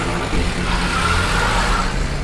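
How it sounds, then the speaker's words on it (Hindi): Car engine running after starting up by itself, a steady close motor drone with a slight rise in revs midway, continuous and unbroken with no voices. "साहब गाड़ी सेल्फ स्टार्ट हो गई।"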